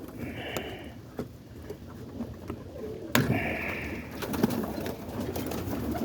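A kit of roller pigeons coos softly in short repeated bursts on a rainy morning in Boston, close by, with light rustling and occasional wing or perch noises in between.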